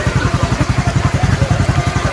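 A gasoline-powered tuk-tuk engine runs loud and close, a steady, fast putter of rough low pulses with a rattly clatter on top, holding an even idle-like rhythm throughout with no talk.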